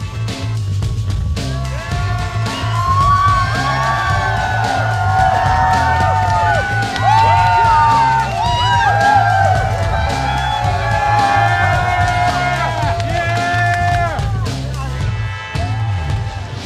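A large esports arena crowd at the League of Legends Season 3 World Championship in 2013 cheers and shouts steadily, with whoops and a loud din running the whole time and music or amplified sound underneath.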